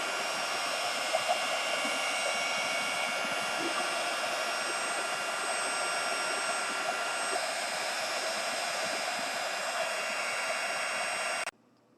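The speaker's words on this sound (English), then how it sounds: "I'm going to be using a heat tool." Steady, even whooshing roar of a heat tool blowing hot air to melt wax off pysanky eggs, continuous and close for the whole stretch before it cuts off abruptly.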